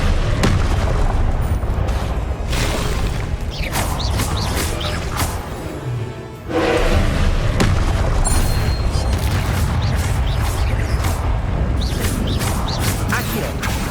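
Spell blasts from Hogwarts Legacy boom and crash in a dense, loud barrage, with rumbling impacts, creaks and mechanical clatter running nearly continuously, broken by one short dip before the noise surges again.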